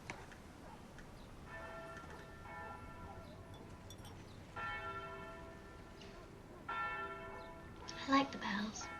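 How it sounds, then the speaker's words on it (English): Church bells ring in several separate bursts, distant and resonant, over a faint background hum. "I like the bells."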